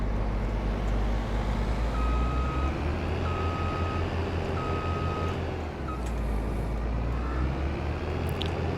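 Reversing beeps from a vehicle in the Farming Simulator 22 game sound as evenly spaced electronic tones, four or five in a row, over a loud steady engine drone, with no talking.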